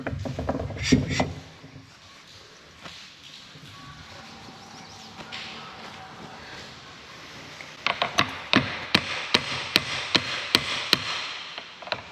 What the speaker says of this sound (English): Hammer it all down.